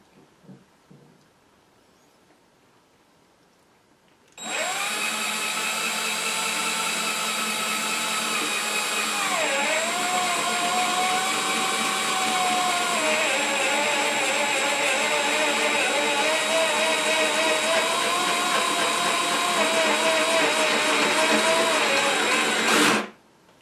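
A Milwaukee Hole Dozer hole saw cuts a lock hole through an old wood door, starting suddenly and grinding on loudly and steadily for nearly twenty seconds with a brief pitch dip midway, then stopping abruptly.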